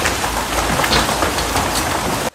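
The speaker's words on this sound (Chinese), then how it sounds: "大雨没有停歇，山坡土石不断崩落" Heavy rain pours steadily over a mountain slope during a landslide near the Suhua Highway and rail line in Hualien, a dense, loud, continuous roar of water and downpour that cuts off abruptly at the end, with no voices.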